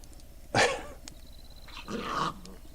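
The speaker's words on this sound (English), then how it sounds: "The dogs are fighting." Dogs fighting, with a sharp snarling burst up close followed by a second rougher growling, rumbling flare a moment later, separated by a short quiet gap.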